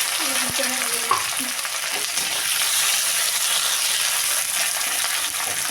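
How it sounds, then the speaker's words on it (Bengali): Eight chopped tomatoes with ginger paste and salt fry in a pan for fish curry, giving a constant loud sizzle with a few clinks of stirring early on. "লবণটা দিয়ে টমেটোটা আমি একটু ভালো করে ভেজে নেব।"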